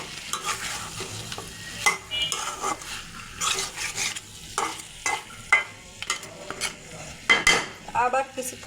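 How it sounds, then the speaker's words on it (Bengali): Fried potatoes go into a pot of duck curry with clanking and scraping of a spoon against the pot, irregular bursts of stirring over a soft simmering sizzle, heard up close. "এখন আমি ভেজে রাখা আলু দিয়ে দেব।"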